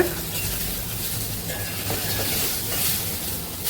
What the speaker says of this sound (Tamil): இப்போ இந்த கத்திரிக்காவை திருப்பி போட்டுட்டு